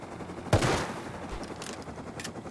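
AK rifle gunfire in a video game: one sharp, loud shot or short burst early on, followed by fainter distant pops.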